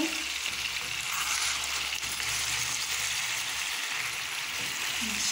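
Chicken sears in a tagine with a steady, close, crackling sizzle that runs evenly throughout, with a low hum beneath it.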